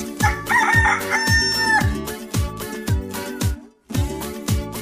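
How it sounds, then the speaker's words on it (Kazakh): A rooster crows close by, its drawn-out cock-a-doodle-doo rising and falling over a repeating rhythmic background that pauses briefly before resuming. "әтеш,"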